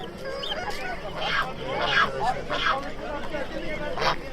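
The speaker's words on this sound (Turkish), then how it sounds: "Kaz mı oluyor? Kaz yavru." Two-day-old goslings at a Turkish bird market peep in rapid, repeated high chirps, close and busy, with people talking alongside.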